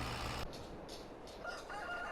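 Chickens clucking and crowing on a farm in the village-building video game Osada, a short burst of fowl calls over a steady ambient game background with no talking.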